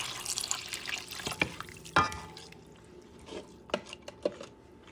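Broth is poured into a pot of Puerto Rican rice stew with shrimp and pigeon peas, a soft liquid trickle with splashes and clinks, fading toward the end.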